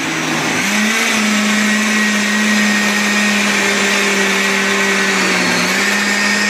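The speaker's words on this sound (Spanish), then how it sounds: "Y al final, una vez hecho, a triturar, a triturar, a triturar." A blender purees cooked zucchini into a smooth soup, its motor whining loud and steady for several seconds with a slight pitch shift early on before cutting off abruptly.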